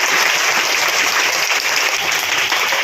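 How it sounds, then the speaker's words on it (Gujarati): Dense, loud and steady applause fills the room for an official at a primary school's girls' education and school-entry festival in Ambaliyasan, a continuous wash of many hands with no pauses. "પહેલા તો સાહેબ માટે એક વખત જોરદાર તાળીઓ"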